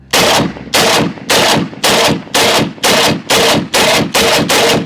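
Loud AK-50 rifle emptying its magazine, about ten heavy booming shots in a steady rhythm, each blast ringing out briefly before the next, close and with no voices.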